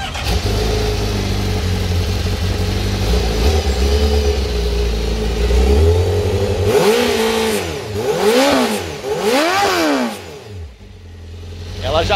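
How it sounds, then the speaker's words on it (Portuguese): A Honda sport motorcycle engine idles with a rumble, then revs sharply several times in quick bursts, rising and falling in pitch before dropping off; a voice talks underneath. "escutar o ronco da moto."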